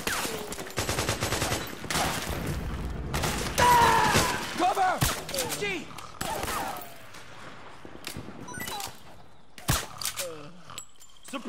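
Bursts of gunfire from a firefight in the video game Metal Gear Solid 4, with loud rapid automatic volleys and single shots mixed with shouting voices and impacts, continuing in waves throughout.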